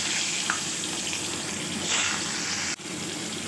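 Parboiled cauliflower and potato pieces fry in oil in a wok with a steady, even hiss of sizzling that drops away briefly near the end.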